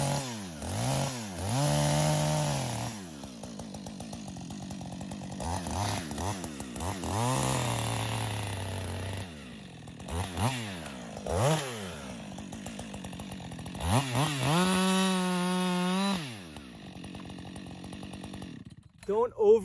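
A chainsaw makes the felling cut on a tree in a belly-and-back felling job. The engine whines loudly and rises and falls in pitch as the chain bites and eases off, with a voice heard now and then.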